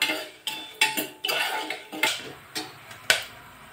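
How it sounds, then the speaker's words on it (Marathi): Cumin seeds stir-fried in a pan with mustard seeds, heard as a run of sharp metallic clinks and scrapes from a spoon against the pan, about eight distinct knocks over a steady sizzling hiss, close and fairly loud. "आणि हे जिरा आहे। छान असं आपण हे परतून घ्यायचं आहे।"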